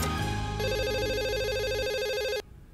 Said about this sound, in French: Le téléphone depuis sonne.